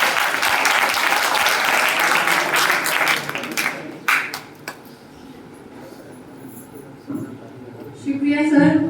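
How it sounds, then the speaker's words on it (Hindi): An audience at a short film festival session applauds loudly for a few seconds, the clapping fading out by midway, followed by quieter room sounds and a voice starting to speak near the end. "एक बार जोरदार ताली।"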